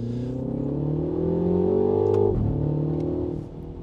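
A synthetic engine note from a 2024 MINI Countryman JCW, played through the car's speakers in go-kart driving mode, hums and rises steadily like accelerating, then drops sharply and settles before fading, smooth and tonal rather than mechanical.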